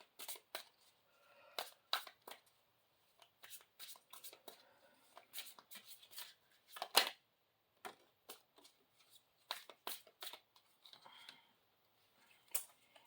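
Mystical Shaman Oracle cards shuffled by hand in short irregular bursts of crisp riffling and flicking, close and quiet, with near-silent gaps between bursts and no talk.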